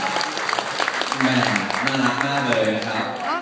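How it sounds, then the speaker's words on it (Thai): Wedding guests clap to welcome the bride and groom, a soft, steady patter of applause underneath someone speaking loudly over a microphone. "ผมขอเสียงปรบมือต้อนรับผู้บ่าวสาวอีกสักครั้งหนึ่งนะครับ"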